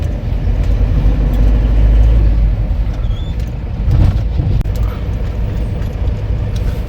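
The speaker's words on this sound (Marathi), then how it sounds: "आता ट्रॅफिक लागलं आहे इथे, ब्रिजवर पण ट्रॅफिक असतं." Traffic crawls in a jam on a highway bridge toward Vashi near Mumbai, a loud steady rumble of car and bus engines with low road noise and no clear voices.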